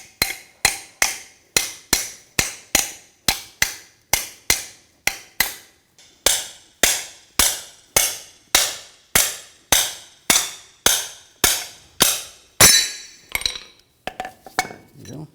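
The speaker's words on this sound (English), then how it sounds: "this plate right here, just want to tap this off, just using a hammer" A steel hammer taps repeatedly on the plate of a front shock from a 2004–2009 Audi A4 Quattro, about two crisp metallic strikes per second, loud and close, ending in a few irregular knocks.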